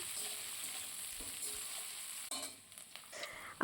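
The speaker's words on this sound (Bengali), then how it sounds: "এখন এই সমস্ত কিছুকে অল্প কিছুক্ষণ ভেজে নিচ্ছি যতক্ষণ না কাজু কিশমিশটা সুন্দরভাবে ভাজা হয়ে যাচ্ছে" Capsicum, cashews and raisins fry in a pan for fried rice, giving a steady bright sizzle with occasional stirring scrapes and clinks toward the end.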